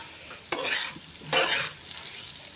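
Potatoes for a Bengali-style fried potato dish stirred in a frying pan, two distinct scraping sweeps with a steady sizzle underneath, close and fairly loud with no talking.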